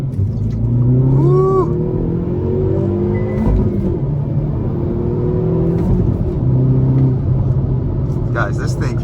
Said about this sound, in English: really get a chance to open up this 2022 Veloster N